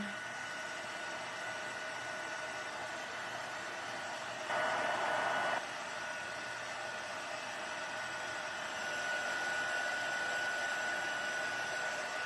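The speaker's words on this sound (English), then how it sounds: "my heat gun is taking forever to be warm." A heat gun blows steadily to melt embossing powder in a stamping craft session, a continuous airy whoosh like a hair dryer that holds at even loudness through the clip, with brief small bumps in intensity.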